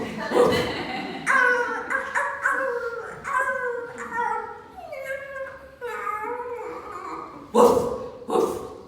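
A human voice imitates a dog, giving a string of barking woofs in an uneven rhythm during an artist's lecture. The barks are close and fairly loud, with no other sounds around them.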